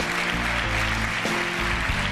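An evening television audience claps for an invited composer, a steady burst of applause filling the whole short stretch, with faint music tones underneath.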